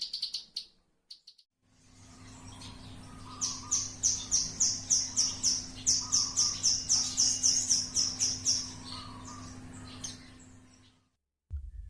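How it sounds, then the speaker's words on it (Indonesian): Bar-winged prinia, likely a female, sings a rapid series of about fifteen sharp, bright chirps in rhythmic bursts with short gaps, fairly close, over a steady low hum of background insects or machinery. "Jadi besar kemungkinan burung yang seperti itu adalah burung ciblek sawah betina."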